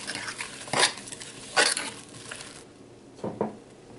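Peaches being mashed and cooked down for preserves in a pot, heard as a few clanking stirs and scrapes of a utensil against the pan with soft sizzling between, close by.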